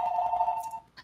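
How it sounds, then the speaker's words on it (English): A telephone rings with a steady electronic trill, fairly loud and close, that holds for most of a second and then stops, leaving a brief faint noise afterward. "and I apologize for the phone"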